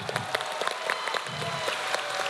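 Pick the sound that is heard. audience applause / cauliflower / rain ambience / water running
audience applause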